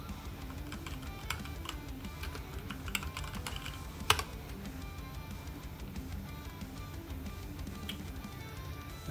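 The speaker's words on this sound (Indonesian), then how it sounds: "Di terminal kita ketikkan Ionic server." Quiet typing on a computer keyboard while entering a command in a terminal: soft, scattered key clicks with one slightly louder tap, heard alone against a faint background hum.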